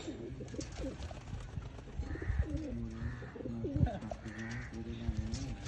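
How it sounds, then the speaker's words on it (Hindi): Teddy pigeons coo in soft, repeated throaty rolls, several birds close by, with faint rustling and background noise between calls. "ये जी एक लाजवाब ब्रांड टैडी कबूतर है दोस्तों"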